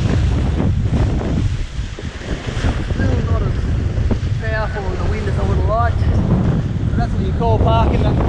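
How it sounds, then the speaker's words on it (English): Strong beach wind gusting across the microphone during a kiteboarding session with a 14m Cabrinha FX kite, a loud rumbling roar mixed with surf, while a person talks over it. "Nice little gust of wind there."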